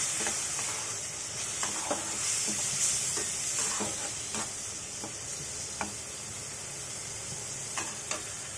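Chopped beef liver stir-fries in a pan with a constant soft sizzle, punctuated by occasional clicks of a spatula stirring, close and steady with no voices.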